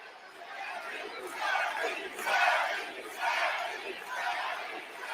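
A wrestling arena crowd at a WWE Monday Night Raw event sings and chants along in loud rhythmic surges, a distant roaring mass of voices swelling and fading in waves.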